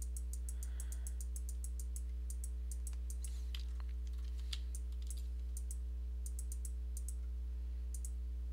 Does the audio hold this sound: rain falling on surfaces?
no